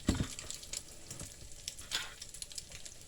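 Dehydrated eggs hit a hot pan with peppers for a scramble, giving a soft steady sizzle and faint frying crackle, with a brief louder burst at the start and occasional stirring scrapes.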